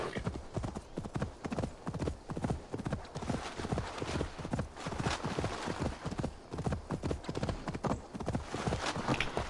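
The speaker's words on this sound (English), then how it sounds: "Come on, horsey." A horse gallops in Assassin's Creed Valhalla, hooves clip-clopping in a fast, steady rhythm close up, continuing without a break under faint game sounds.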